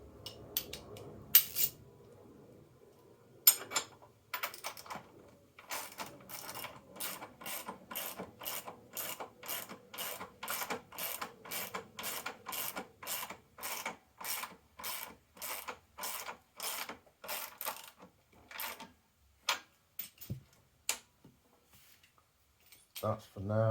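A hand ratchet clicks in long, steady runs of rapid pawl ticks, pausing between strokes, while tightening a nut on the rear independent suspension of a 1994 Jaguar XJS V12, close and fairly quiet.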